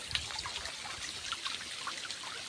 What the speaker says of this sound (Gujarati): આ છે નદી જુઓ